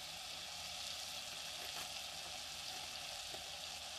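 Butter sizzles and fries in a pan, giving a steady, close crackling hiss with no voices over it.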